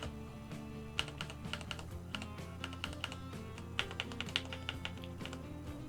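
Soft, irregular clicks come from a computer keyboard as the comma and full stop keys are tapped repeatedly while playing Transport Fever 2, quiet and close over faint game music, with no talking.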